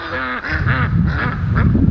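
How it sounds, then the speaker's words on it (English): Several ducks quack and geese honk close by on a pond in a noisy overlapping chorus, brief and loud. "the ducks and the geese are in the pond again"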